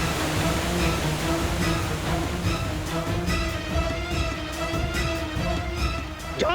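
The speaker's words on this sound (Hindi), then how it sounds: "जय पानी कहाँ से आ गो?" Water rushes steadily in a TV drama scene, a dense unbroken roar with faint tonal music underneath and no speech.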